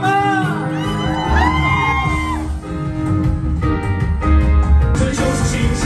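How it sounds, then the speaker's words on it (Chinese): A concert crowd whoops, shouts and cheers loudly and continuously, with high voices rising and falling over a dense roar of many people, while music plays underneath. "让我听到你的尖叫声好吗？"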